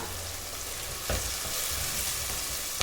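Chili powder hits hot oil for a Tamil fish curry cooked in a clay pot, giving a continuous loud sizzle with a brief stir partway through.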